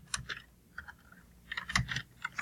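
Someone types an email on a computer keyboard, sounding out quick clusters of close, light key clicks in short irregular bursts.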